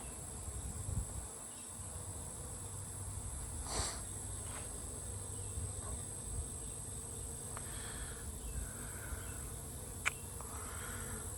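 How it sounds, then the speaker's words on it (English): Bees robbing a failing beehive at an apiary fill the air with a faint, continuous insect drone, with occasional louder buzzes passing close by. "Just a lot of bees robbing stuff out."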